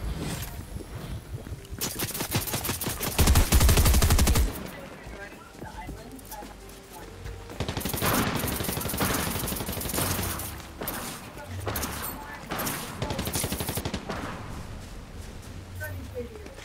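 Gunfire in the video game Fortnite comes as dense bursts of rapid automatic shots and scattered single cracks, loud and close, with a player talking over parts of the shooting.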